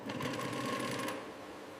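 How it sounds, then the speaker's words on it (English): An overlock sewing machine in a football jersey factory stitches in a brief, fast, steady mechanical whir that eases off near the end, heard without speech. "Overlock stitching strengthens critical areas exposed to constant match pressure."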